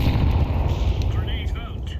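Grenade explosions and gunfire in the game Counter-Strike, a dense, loud, rumbling barrage of booms and shots that fills the moment, with game voice lines over it.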